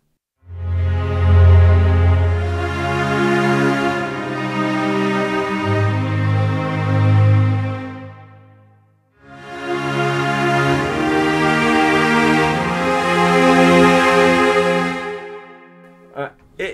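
VSL sampled low strings sustain a rich minor chord with a deep bass foundation, two long swelling phrases separated by a brief pause, loud and close.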